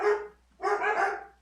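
Several dogs bark in two agitated bursts, a short volley and then a longer flurry after a brief pause, fairly close and loud with no talk over them.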